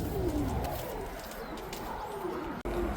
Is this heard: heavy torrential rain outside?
no